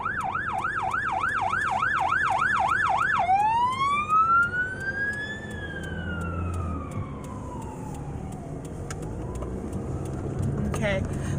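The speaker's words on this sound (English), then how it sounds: "The ambulance is coming." An ambulance siren wails close and loud, first in a rapid yelp and then in long rising and falling sweeps. A steady hum of traffic runs beneath it.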